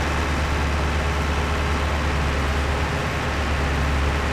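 A 50-horsepower tractor engine in a farming video game runs at a steady idle, producing a constant, even drone that continues without a break.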